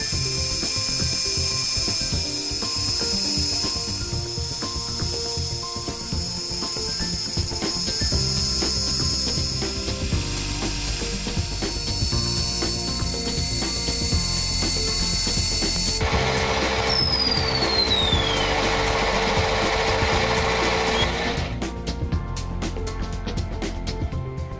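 A lathe turns small ornamental discs for a clock, a steady mechanical whir with scraping cutting noise that runs unbroken and fairly loud throughout, with no voices.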